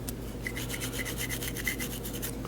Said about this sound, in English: scrub that with the Scotch-Brite pad